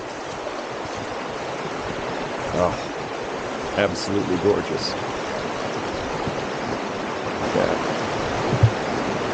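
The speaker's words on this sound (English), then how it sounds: "Beautiful sound of running water all night long." A stream of running water beside a campsite gives a steady, broad rushing wash throughout. Someone speaks briefly over it.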